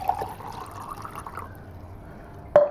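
Water pours into a quick mix shaker bottle for a creatine drink, a soft steady trickle running about one and a half seconds, then fading, followed by a sharp knock near the end.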